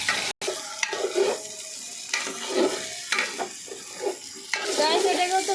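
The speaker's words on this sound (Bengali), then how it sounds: "এটাকে হচ্ছে সুন্দর করে ভাজা ভাজা করবে।" Rice and onions for pilaf are stirred in a hot pan, giving a close steady sizzle broken by rhythmic scraping strokes of the spoon; no voices.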